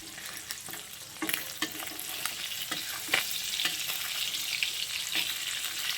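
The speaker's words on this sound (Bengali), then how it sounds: "একটা কই মাছ ফ্রাই করছি আগে।" A koi fish (climbing perch) fries in a pan with a steady crackling sizzle, broken by scattered sharper pops and scraping stir sounds, close and moderately loud.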